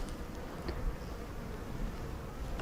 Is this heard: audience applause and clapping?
no